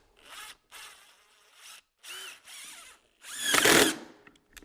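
A power drill drives screws into purlin holders in short, moderately loud whirring bursts, some with a squealing pitch, ending in a longer, louder burst as the screw tightens.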